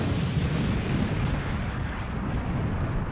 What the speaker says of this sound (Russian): Эти взрывы такие мощные.